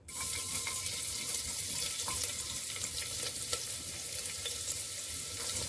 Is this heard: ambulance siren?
no